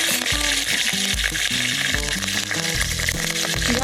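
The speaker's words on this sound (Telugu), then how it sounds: "చికెన్ ఫ్రైకి ఏవో పచ్చిమిరపకాయలు కరివేపాకు అవి వేసుకున్నాం" Chicken frying with green chillies and curry leaves, a loud continuous sizzle with bubbling crackle, heard over prominent rhythmic background music.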